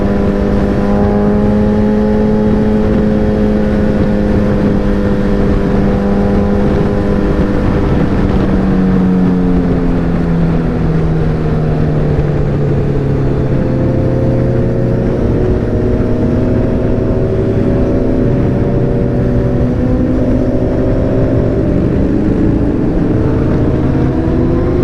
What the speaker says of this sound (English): So you can see the bikes going on top of the overpass.